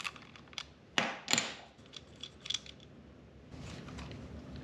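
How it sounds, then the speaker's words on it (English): A 10 mm socket loosening the positive and negative battery cable nuts on an sPod unit during a Chevy Colorado ZR2 install, giving faint close metallic clicks and ratcheting taps in short bursts. "First remove the positive and negative cables on the S-Pod. It takes a 10 millimeter socket."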